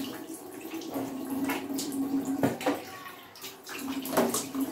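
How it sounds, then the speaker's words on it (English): Tap water runs steadily into a sink while hands scoop and splash it onto a face, with intermittent sharper splashes over the continuous close flow. "So rinsing my face with just water."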